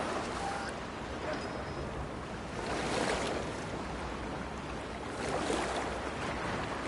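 Splashing and churning water from swimming in a river in Cyberpunk 2077, a continuous washing surge that swells and recedes.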